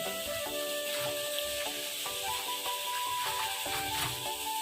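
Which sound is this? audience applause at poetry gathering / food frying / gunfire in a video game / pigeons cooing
food frying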